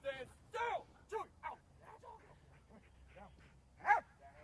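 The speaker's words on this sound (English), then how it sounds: "Suspect, stop fighting my dog." A police K9 barks in short, sharp bursts during bite training, with a handler's voice and other speech mixed in between the barks.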